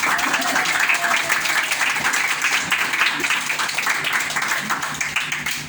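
An audience at a pesantren prize-giving ceremony claps together in sustained, dense applause, with talk underneath.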